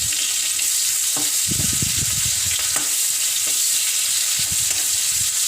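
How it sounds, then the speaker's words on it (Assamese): Two bay leaves and an onion fry together in oil, giving a bright continuous sizzle broken by repeated low scraping stirs of a spatula in the pan. "মই তাতে দুখিলা তেজপাত আৰু এটা পিঁয়াজ দি এইখিনি একেলগে ভাজি লৈছোঁ"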